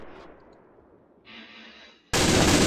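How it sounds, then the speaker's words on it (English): Distant gunfire and battle rumble from the Men of War: Assault Squad 2 WW2 game at Kasserine Pass, then a sudden loud, sustained burst of machine gun fire cuts in near the end. "They got in this machine gun."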